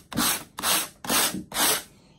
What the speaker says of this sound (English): after a light sanding